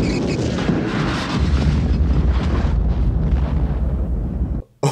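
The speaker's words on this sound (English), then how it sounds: "That was such a big explosion." A big explosion in the 1979 film Mad Max erupts as a loud, sustained broadband roar and rumble lasting several seconds before abruptly cutting off, followed by a short jolt of noise.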